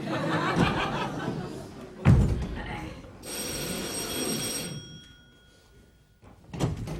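Doorbell ringing during a stage comedy performance: a sustained electric bell tone lasting about a second and a half, preceded by audience laughter and stage bumps, with a thud near the end.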